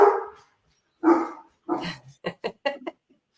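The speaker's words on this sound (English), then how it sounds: "They're good dogs. They're just barking" Several dogs bark indoors in a living room, a few spaced barks followed by a quicker burst of short yaps, fairly close and loud.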